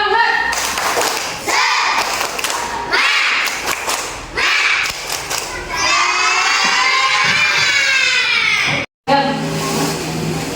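Classroom of schoolchildren shouting and clapping in a loud group chant, rhythmic slaps and voices filling the room, building into a sustained cheer before a brief cut and renewed crowd noise.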